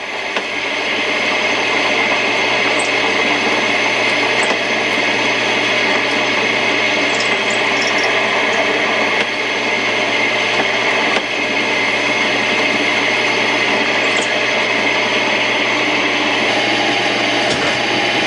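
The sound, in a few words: countersinking holes with a 30-degree countersink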